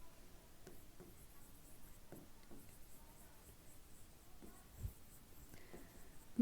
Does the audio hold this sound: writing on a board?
yes